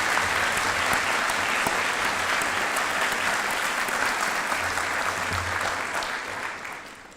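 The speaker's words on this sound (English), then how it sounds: "Can we have a round of applause for the families," Dense, sustained applause from a large audience at a doctoral hooding ceremony, loud and even throughout before tapering off near the end, with no talking over it.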